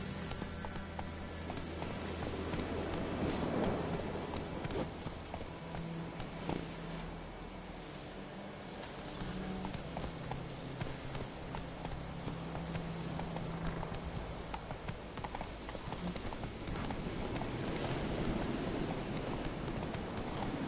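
Roach the horse gallops in The Witcher video game, a steady clip-clop of hooves running continuously throughout over ambient game sound and music.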